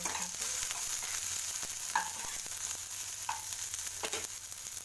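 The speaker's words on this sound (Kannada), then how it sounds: "ಇದೆಲ್ಲ ಸ್ವಲ್ಪ ಬಾಡಿಸ್ಕೋಬೇಕು ಈರುಳ್ಳಿ ಹಾಕಿ" Onions sauté in a pan while bread toast is being made, giving a continuous soft sizzle with a few light scrapes of stirring, steady and fairly quiet, with no talking.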